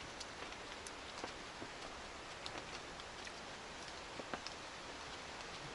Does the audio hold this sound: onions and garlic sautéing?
no